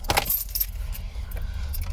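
Subaru car keys give a short metallic jangle near the start, followed by quiet background hum.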